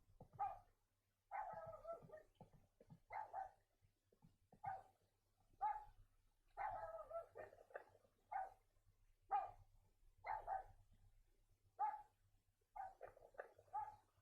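A dog barks repeatedly in the horror video game Rule of Rose, single and doubled barks at an irregular, fairly even pace over a low constant hum, with no talking.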